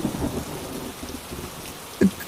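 Steady rain pours in a Bengali cartoon fairy tale, a continuous hiss and patter with a low rumble of thunder and a short, sharp thunder crack near the end.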